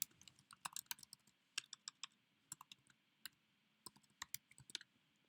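Keys click on a computer keyboard while entering text into an Excel spreadsheet, a quick irregular run of close, crisp taps with short pauses, no talking.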